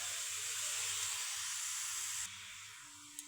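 Cauliflower frying in a pan with tomato sauce while veg momos are made at home, a steady close sizzling hiss that drops quieter partway through, followed by a small clink.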